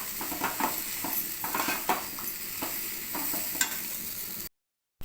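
A spoon stirs salt into a pan fry of boiled green gram and peanuts, making repeated scraping and rustling strokes at close range before cutting off abruptly.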